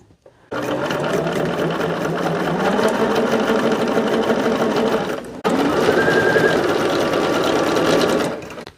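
Sewing machine stitching quilt blocks, a center blossom unit for a flowering quilt, runs steadily and close for about five seconds, stops briefly, then starts again and hums on before stopping.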